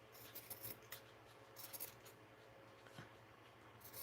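Faint scissors snip and slide through freshly cleaned fabric during home sewing, a quiet run of soft cuts over a low background hum.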